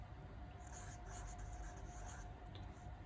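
Pen or marker writing by hand on a surface during an online maths lesson, a faint scratchy stroking in short bursts over a steady background hum.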